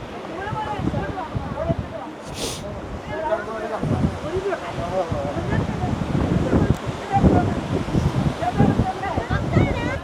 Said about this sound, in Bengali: প্রচণ্ড হাওয়া দিচ্ছে এখানে